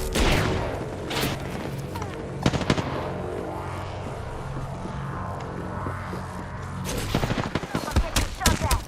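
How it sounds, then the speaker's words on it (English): Video game gunfire in an online shooter match: loud, close bursts of automatic fire and sharp single shots, dense at the start and again near the end, with game sounds between them. "I'm getting shot at."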